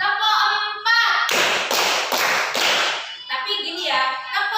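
Several sharp, loud rounds of hand clapping from a group, in quick rhythmic bursts, framed by voices speaking before and after.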